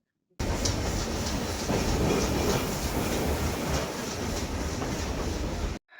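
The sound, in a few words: train running on rails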